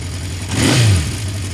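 A 1976 Honda CB750 K6 motorcycle engine, already warmed up, fires on the electric starter and gives one brief rev that swells and drops back to a steady idle, close and loud.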